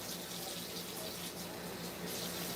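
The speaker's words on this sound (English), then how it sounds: "now we're just washing the sponge out before I go wash the pan again" Tap water runs steadily into a kitchen sink as a sponge is rinsed out, a continuous close hiss and splash with no talking over it.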